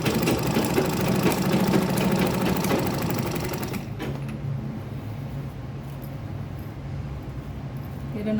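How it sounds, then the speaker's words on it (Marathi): A sewing machine stitches a makeup box bag in a fast, close, rhythmic run for a few seconds, then stops, leaving quieter handling noise. "आता ह्याच्यावरतून एक टिप मारून घ्यायची."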